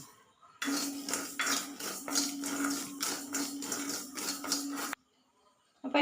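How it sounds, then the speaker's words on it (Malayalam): A spatula scrapes and clinks rapidly against a hot iron pan as garden cress seeds are dry-roasted. The close, repeated metallic tapping runs for about four seconds, then stops abruptly into near silence. "ഇനി ആശാളി വറുത്തെടുക്കാം"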